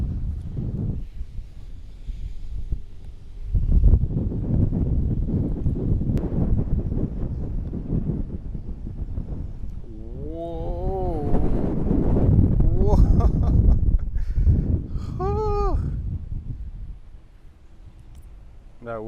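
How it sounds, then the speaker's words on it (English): Strong wind buffets the microphone on the Royal Westmorland golf course, a loud, continuous roar that rises and falls in gusts, with people speaking over it. "That wind is insane."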